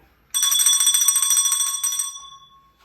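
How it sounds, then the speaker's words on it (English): A bicycle-style bell rung once at a bar to open a beer review: a bright, close metallic ring with a sharp onset that sustains for about a second and a half, then fades out alone. "There's the ring for a beer bell."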